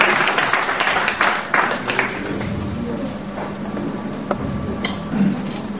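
A room of people applauding at a JCI Burkina Excellence gathering, brisk uneven clapping with sharp hand claps and a few clinking taps, fairly close and filling the whole six seconds.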